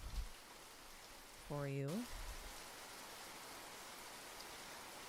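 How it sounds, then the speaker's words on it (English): Steady, faint patter of rain continues in the background throughout, with a brief spoken phrase partway through. "Hopefully the consistent rain in the background isn't too annoying"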